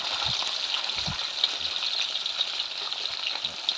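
Steady hiss of small white fish frying in hot oil in a pan, with a few soft low knocks in the background and no talking.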